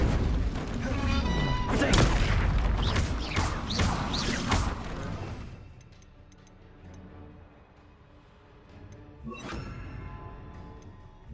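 Confringo fire spell blasts from Hogwarts Legacy gameplay, a dense run of sharp explosive bursts and crackles over several seconds, then a quieter stretch broken by one more loud blast near the end.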